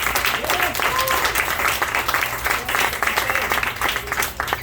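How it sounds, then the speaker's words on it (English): An audience at a community coffee gathering applauds Congressmember Adriano Espaillat with steady, full applause, voices and cheers woven through and a low hum beneath. "Another round of applause for Congressmember Espaillat"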